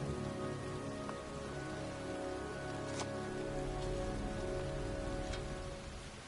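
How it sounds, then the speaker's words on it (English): Steady rain falling outdoors in the video game Heavy Rain, a constant, even patter on surfaces beneath a low background hum, with no one talking. "It's cold. It's raining. I'm standing outside getting soaked."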